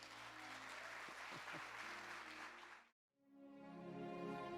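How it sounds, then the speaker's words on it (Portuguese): Church congregation applauding at the close of a Sunday sermon, a faint steady wash of clapping that stops abruptly, followed by a brief silence and a tonal musical swell. "aplauda o Senhor."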